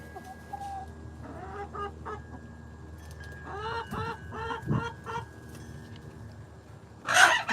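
Chickens in a coop of around seventy birds cluck in scattered bursts, with a louder squawk near the end, and a faint steady hum runs underneath.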